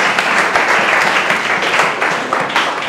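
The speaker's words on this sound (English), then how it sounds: "warm round of applause." Lecture audience gives a speaker a warm round of applause, a loud, dense, continuous clapping that holds steady throughout.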